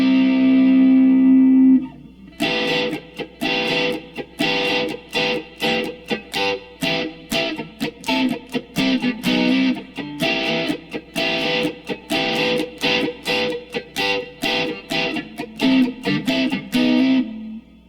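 Electric guitar, a Red Special style, strums a rhythm in tight choppy bursts with short gaps. A sustained note rings alone at the start, then the strummed pattern repeats steadily, close and clear.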